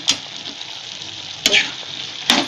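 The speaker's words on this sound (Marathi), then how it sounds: "पण हलवत राहायची भाजी एकसारखी." Soya chunks and peas curry cooks in a pan on high flame, a constant close sizzle broken by three sharp scrapes of a spoon as it is stirred.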